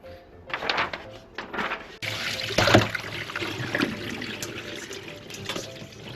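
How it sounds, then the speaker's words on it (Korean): Water from a tap streams steadily while a freshly caught rockfish is rinsed under it. Splashing and gurgling rise and fall with handling, loud and close. "흐르는 물에 한 번만 이렇게 헹궈 주시고"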